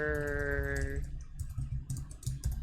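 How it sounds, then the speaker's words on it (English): Fingers type on a computer keyboard with quick, light, irregular clicks close to the microphone, following a short steady electronic hum at the start. "I'm sitting here typing it all by hand."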